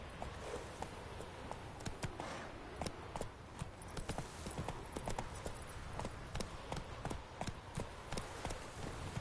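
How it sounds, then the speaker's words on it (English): A horse runs in The Witcher video game, its hooves making a fast, steady clip-clop rhythm over constant game ambience, close and continuous throughout. "Run, Roach."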